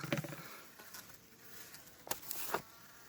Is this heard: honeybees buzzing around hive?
yes